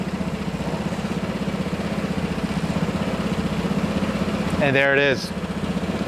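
A Vespa GTS 250/300 scooter engine idles steadily and close by, a low even putter throughout, with a brief talking voice near the end.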